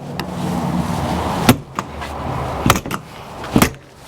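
Several sharp thuds ring out over a low rumble, the pass-through bay door of a 2017 Heartland Bighorn 3010 RE fifth-wheel trailer slammed shut and latched a few times in succession, close by.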